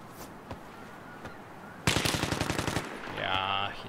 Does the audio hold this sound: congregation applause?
no